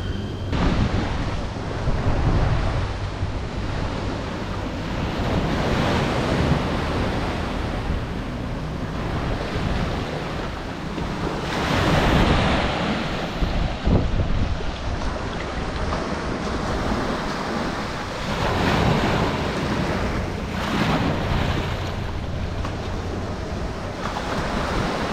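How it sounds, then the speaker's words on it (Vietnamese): Sea waves roll gently onto Mui Ne beach in Phan Thiet during the windy season, a steady soft wash of surf with wind buffeting the microphone, swelling and easing in slow rhythm with no talk. "Em sẽ cho mọi người nghe cái tiếng sóng rì rào ở khúc chỗ này,"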